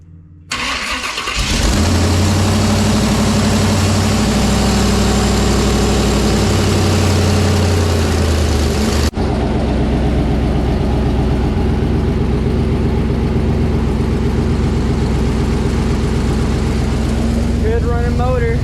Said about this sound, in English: Good running motor.